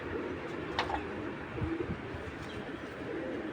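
A female pigeon coos softly a few times against quiet background noise, with no voices present.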